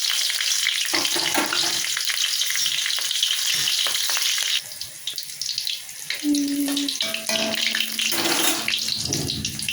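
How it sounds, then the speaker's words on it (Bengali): Torn chillies fry in hot oil in a kadai, making a loud, continuous sizzle with crackling bursts and occasional clatter from stirring, close up, with no talk. "কড়াইয়ে তেল দিয়ে দিয়েছি এবার আমি কয়েকটা লঙ্কা ছিঁড়ে দিচ্ছি"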